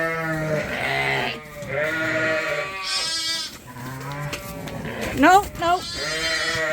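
Sheep bleat repeatedly in a farm alleyway where a ewe is being moved with her two lambs, loud overlapping bleats near and far, with a person speaking briefly.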